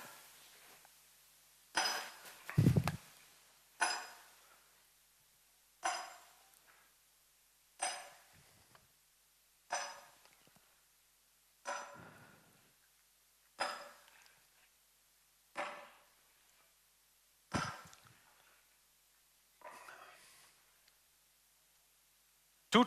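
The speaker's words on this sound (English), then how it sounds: "You see the metal chisel and the hammer." Metal chisel struck by a hammer working stone in a quarry, about a dozen sharp ringing clinks at an even pace of roughly one every two seconds, close and clear against near silence.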